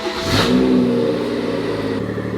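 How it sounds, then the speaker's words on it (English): A BMW M140 with a custom exhaust and sports cat fires up from cold, its engine flaring in a sharp, loud rev that then settles into a steady, rumbling high idle close by. "So let me give you a cold start"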